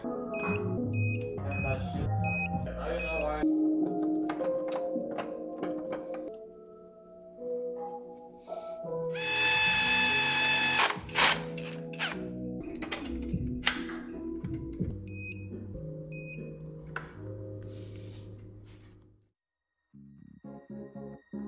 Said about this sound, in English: you'll hear a little beep once we hit it